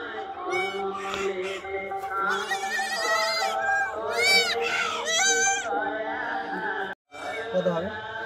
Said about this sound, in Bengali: ছাগল ছানা আমি হাত দিয়ে ধরেছি, ভয় পাচ্ছে।